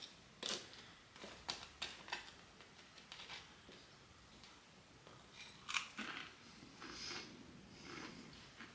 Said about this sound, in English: Ah, you can hear it crunch. Perfectly crispy.